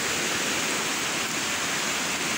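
Floodwater of a swollen river in Brebes, Indonesia rushing past, a steady, loud broadband roar with no let-up, like a close waterfall.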